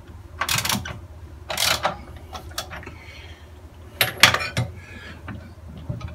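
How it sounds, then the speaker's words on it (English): Head clamp being released on a TruLine 8 round column jig, several sharp metallic clanks and scrapes in irregular bursts, close by, with quieter mechanical rattles between them and no talk. "I'm going to release the clamp of the head"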